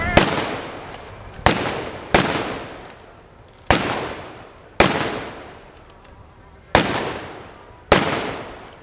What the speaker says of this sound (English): we're going to show you that with the Jaeger and Overschutz, they're going to fire in tandem